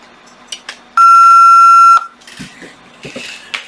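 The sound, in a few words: alarm panel keypad beeping after power is reconnected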